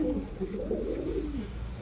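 A racing pigeon gives a low, throaty coo lasting under two seconds, close and fairly soft against a faint background hum.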